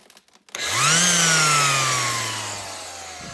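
A power sander starts up and spins steadily while smoothing a two-stroke dirt bike exhaust pipe down to a chrome-like finish; the motor whines up quickly, then holds a loud, even drone that slowly eases off, with no talking.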